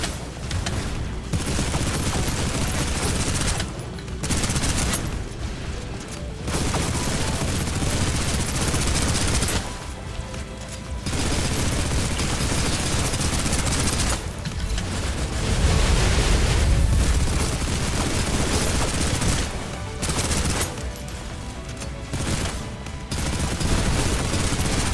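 Sustained suppressive gunfire in the PC shooter game Snowbreak, dense bursts of automatic shots rolling on almost without pause for the whole stretch, loud and close, with short gaps between volleys.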